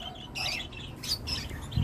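A pet bird out for free-flight training chirps in a few faint, quick bursts, each short and high-pitched, heard alone against a quiet room tone.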